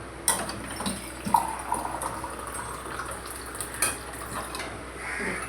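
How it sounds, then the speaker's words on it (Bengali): A little water is poured into a yogurt bowl while making steamed hilsa fish in mustard, with faint splashing, clinks of a utensil against the bowl and light kitchen clatter over a quiet background. "দইয়ের বাটিটার মধ্যে অল্প জল দে"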